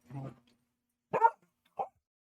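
Several dogs in a room bark and whimper in three short bursts, a lower rumbling one first, then two sharper yips, close and moderately loud.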